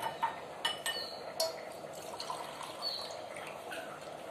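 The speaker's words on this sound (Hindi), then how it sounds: "हम इसको छान लेंगे।" Boiled lemon peel liquid strained through a sieve, a soft continuous trickle and patter of liquid close by, with no talking over it.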